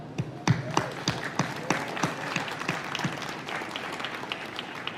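Applause for public sector workers' representatives at a City of Toronto United Way campaign launch, a crowd clapping steadily with sharp individual claps standing out near the start, then thinning into a softer, denser patter.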